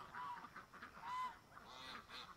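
Canada geese honk a few times as they lift off swamp water, faint and distant calls spaced about a second apart.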